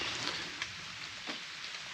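Steady rain patters on surfaces in a garden setting, a dense, even hiss with faint individual drops, fairly close and with no voices.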